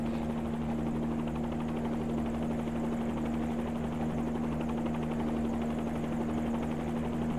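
A helicopter in the X-Plane flight simulator lifts into a hover, its engine and rotor holding a constant, loud droning hum with a steady low tone throughout and no speech.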